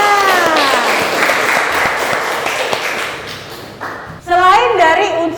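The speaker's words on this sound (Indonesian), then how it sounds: "Tepuk tangan dulu untuk semuanya" A classroom of students gives a round of applause, dense clapping under a teacher's voice that fades briefly before children begin speaking and singing out near the end.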